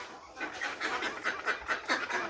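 Repeated nasal quacking from a duck, a rapid series of calls in quick succession, fairly close, with rustling in the background.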